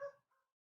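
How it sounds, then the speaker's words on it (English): A dog gives one short, faint bark in the background, followed by a weaker second yelp, then quiet. "Sorry for the dogs barking in the background there."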